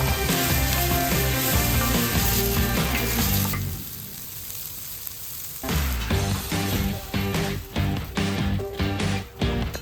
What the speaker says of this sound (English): throw half of our onions in to get our onions flavor with all that pork fat